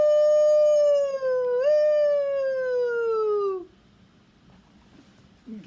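Children imitate a fire engine siren with one long sustained rising-and-falling vocal wail, loud and close, which fades into quiet room noise.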